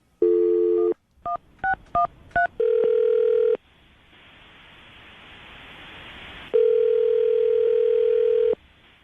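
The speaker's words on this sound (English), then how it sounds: "I'm going to dial the phone number right now" A telephone's steady dial tone, then a quick series of touch-tone keypad beeps as a number is dialed for a radio call, followed by a soft hiss and a second long, loud steady tone, with no talking.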